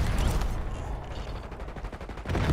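Rapid automatic gunfire in Black Ops 6 crackles in dense, continuous bursts at close range, loud and sustained with no talk over it.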